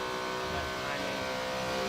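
Porsche race car engine revving in a Forza racing game, a steady buzzing engine note held at high revs, moderately loud, with commentators talking over it.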